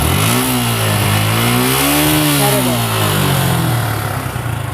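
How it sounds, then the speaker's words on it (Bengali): A new-model Suzuki Gixxer SF motorcycle idles and revs at a bike stand, its engine note rising and falling loudly and continuously from close by, with no talk over it. "স্টার্ট হয়ে গেছে কিন্তু আপনি বুঝতে পারবেন না যে এই গাড়ি স্টার্ট আছে"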